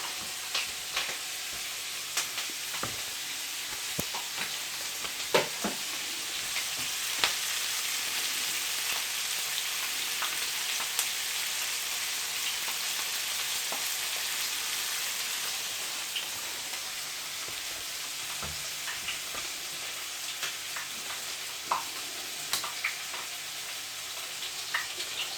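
Onions and garlic fry in a pan, giving a long, even, rain-like sizzle with scattered small pops and occasional light stirring taps, steady and close, no talking.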